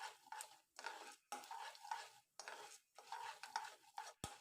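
Chana dal and urad dal are stirred as they fry in a pan, heard as soft, scraping strokes that come in repeated bursts with short pauses between them, plus a light sizzle and a sharp tap near the end.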